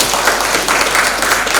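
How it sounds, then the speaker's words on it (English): A classroom audience applauds at the end of a summer course lecture, a steady wash of many hands clapping at fairly close range for the whole short stretch. "Let's give applause again to Dr. Catleya."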